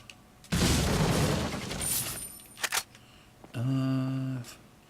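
Flash grenade going off in the video game Resident Evil 4, a sudden loud burst that decays into a hissing roar, followed by sharp crackles and a bright ringing tone, close and clear.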